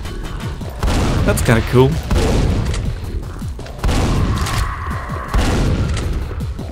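Quake monsters fighting each other in a game, with repeated booming gunfire bursts arriving in waves over a rumbling background while a person talks briefly.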